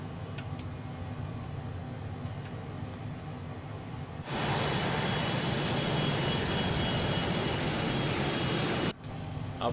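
A Phenom PH100 business jet taxiing in Microsoft Flight Simulator, a steady engine whine that jumps abruptly to a loud, broadband roar and hiss midway, then cuts back sharply near the end.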